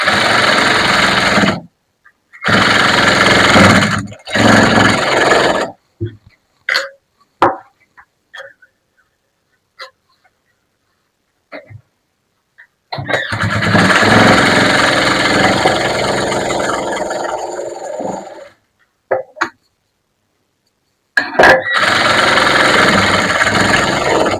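A sewing machine stitching a blouse runs in several loud bursts of motor whir, with quiet pauses and small clicks between them.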